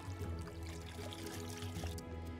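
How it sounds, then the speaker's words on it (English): A pond dipping net is emptied into a bucket of water outdoors, giving a soft, continuous trickle and pour at close range, fairly quiet against a low background hum. "bring over your net and very carefully empty it into your bucket of water"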